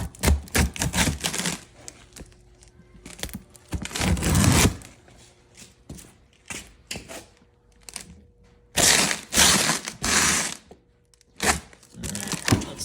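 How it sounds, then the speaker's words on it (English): A wrench works at bolts on a rear tine tiller engine, giving bursts of rapid, sharp clicking and clattering that stop and start in short close-up runs. "When in doubt, wrench will work."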